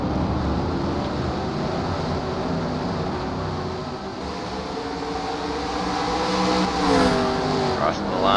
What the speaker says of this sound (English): Look at the Haviland car